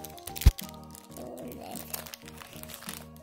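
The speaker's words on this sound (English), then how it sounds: "let's open the blind bag" Plastic blind-bag wrapper crinkling and crunching as it is torn open for a toy unboxing, with one sharp tearing burst near the start followed by softer rustling under light music and voices.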